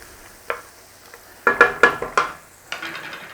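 Onion and garlic sizzling in a soup pot while a spoon stirs them, giving a handful of distinct scraping clatters against a soft background of frying, close and clear with no voices.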